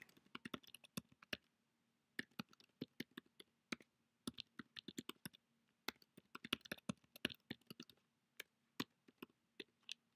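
Fingers tap out an email address on a computer keyboard in quick, close, irregular bursts of clicks with short pauses between groups, heard alone in a quiet room.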